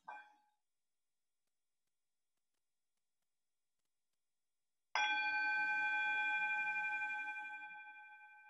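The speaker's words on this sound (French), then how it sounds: "je vous propose un son de la cloche pour vous accompagner dans votre respiration" A meditation bell is struck once to accompany breathing, giving a clear, bright ring that sustains and slowly fades over several seconds, after a short faint sound at the start and a long silence.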